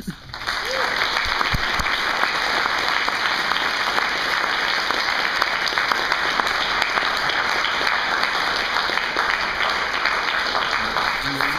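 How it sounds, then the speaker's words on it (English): Audience applause for the candidates at the close of a Maryland 6th District candidate forum, steady, dense clapping sustained for about eleven seconds at full strength. "I would like to give all of the candidates a hearty round of applause."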